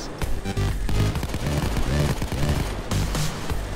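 Rifle fire in the Payday 2 video game comes as a rapid burst of repeated gunshots, loud and close, with a regular rhythm over a few seconds and no speech.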